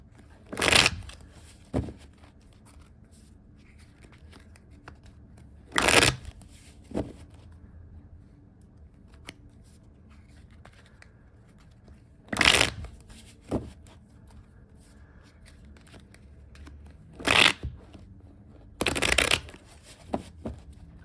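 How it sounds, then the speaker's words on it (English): Tarot cards being shuffled, a clarifying deck riffled in short bursts, about five or six brisk crisp flurries spaced several seconds apart, close and fairly loud against a quiet room. "I will shuffle just a few more times for each of those and then begin your read"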